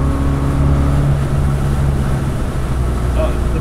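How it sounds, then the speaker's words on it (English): Strong wind roars as a steady, dense rush around a resto-mod BMW 2002 on the move, with constant low road and engine rumble beneath it. "hear the wind noise? Oh my god, it's probably blowing like 40 miles an hour."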